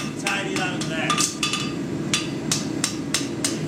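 Hammer striking a horseshoe on an anvil during a farriery contest, a series of sharp, ringing metallic blows in an irregular rhythm, close and loud, with no talk.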